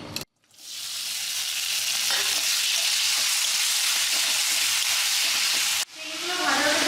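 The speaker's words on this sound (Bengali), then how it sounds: "চিংড়িগুলো ভাজা হয়ে যাক" Prawns hit hot oil in a wok with a loud, bright sizzle that holds steady for several seconds. It drops out briefly near the end and then flares up again.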